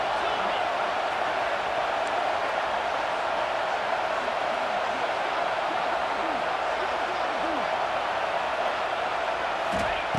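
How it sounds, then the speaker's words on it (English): Steady roar of a stadium crowd in EA Sports College Football 26, a constant loud wash of noise throughout with no clear peaks, as fans try to lift the defense during a red zone stand. "And here comes the noise. This crowd is trying to inspire this defense to make a big red zone stop."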